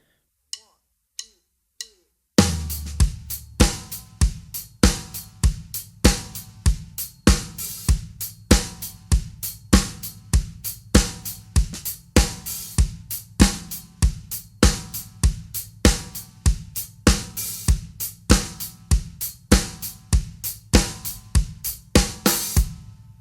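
Three soft clicks give way to a steady four-on-the-floor drum groove: fast, even hi-hat eighth notes with stronger accents on the offbeats, played continuously and close.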